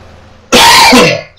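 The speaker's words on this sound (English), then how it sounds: "since this cough is getting bad" A single sharp, loud cough bursts out close to the microphone after a quiet moment, rough and throaty, then fades quickly.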